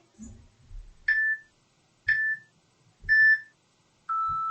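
An exercise timer in a chair-based cardio class beeps four times at even one-second intervals, the last tone longer and lower, loud and clear after some faint background sound.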